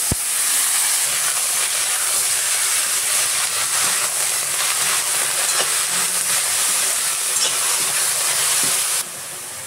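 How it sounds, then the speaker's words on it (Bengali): Washed banana flower drops into hot oil already seasoned with bay leaf, dried red chilli and cumin seeds, setting off a loud, continuous sizzling hiss that holds for several seconds and then eases slightly at the end. "ধুয়ে রাখা মোচাগুলো তেলে দিয়ে দিলাম"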